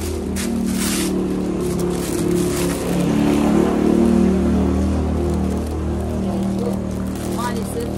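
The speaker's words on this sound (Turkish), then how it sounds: "motor seslerinden kendi konuştuğumuzu duyamıyoruz" Steady motor engine drone runs loud and continuous throughout, with low tonal hum and slight swells, while people talk over it outdoors during plant preparation.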